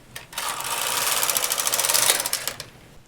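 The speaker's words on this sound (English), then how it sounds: "I'll just do a cast off row and then let you see what we have." Knitting machine carriage running a cast-off row on a swatch: a close, buzzing mechanical whir with rapid clicking pulses that swells and fades over a few seconds.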